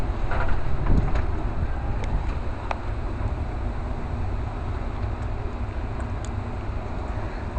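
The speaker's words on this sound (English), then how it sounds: "You hear the wind?" Strong Hurricane Sandy wind roars steadily across a New York balcony, a loud, continuous rushing with gusty buffeting against the microphone and no talking.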